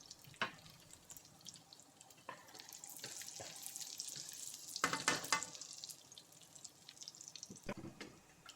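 Chunky garlic and chili flakes sizzle gently in oil, a steady soft crackle with scattered sharper pops and brief louder bursts, close up and with no talking.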